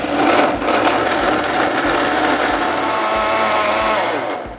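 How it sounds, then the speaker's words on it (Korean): A blender roars continuously at close range, grinding fish cake with water into a thick, watery mixture with a dense, churning whine that eases off at the very end. "어묵을 충분히 오랫동안 갈아주세요."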